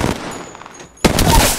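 A sharp, loud Wingman revolver shot rings out in Apex Legends, preceded by a brief burst of game noise and a quiet gap, with the blast and its tail closing the moment.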